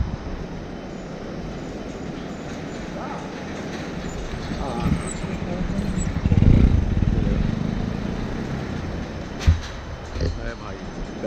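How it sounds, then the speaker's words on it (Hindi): A motorbike rolls across the swaying Kushma suspension bridge in Nepal, a steady engine drone with rumbling deck noise that swells near the middle, while a rider talks over it and another bike approaches from behind. "एक और बाइक आ रही है मेरे पीछे से।"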